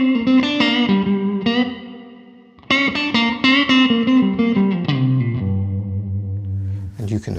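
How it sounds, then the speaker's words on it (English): An electric guitar through an HX Stomp with room and spring reverb plays chords and short melodic lines, each note trailing off into a washy, springy reverb tail. "if I put on the spring reverb now we've got a bit of room reverb and some spring reverb"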